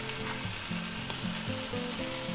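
Hot Italian sausages fry in a pan alongside peppers and onions, a steady broadband sizzle running throughout with a few low scraping knocks as they are turned, close and moderately loud, no voices.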